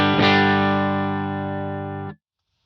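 An electric guitar playing a clean tone through a Line 6 HX Stomp amp modeler, miked with a Royer ribbon mic close to the speaker cone: a single strummed chord rings out evenly, slowly decays, then is abruptly cut off.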